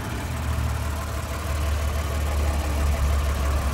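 A 2019 Toyota Highlander XLE's 3.5 liter V6 engine idles steadily with a smooth, continuous low hum, heard close and alone without any talking.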